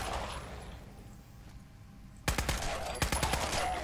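Rapid automatic gunfire rings out in Fallout 4 as an enemy is mowed down, a loud, dense string of shots that breaks out after a quiet stretch and runs to the end.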